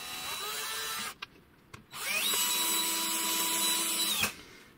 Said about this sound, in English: if you use an electric drill, don't go all the way